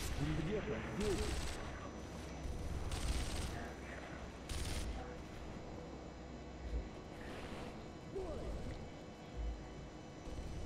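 Sporadic gunfire in the shooter Sniper Elite V2 cracks out in scattered bursts and single shots at a moderate distance, amid game ambience with voices talking over it.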